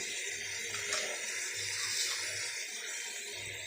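A little water poured into spices in a pan while cooking, a steady close hiss of running or splashing water that continues without a break, with a faint low hum underneath.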